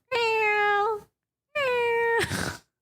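A person imitates a cat with two drawn-out, tonal meows separated by a short pause, the second ending in a breathy rasp.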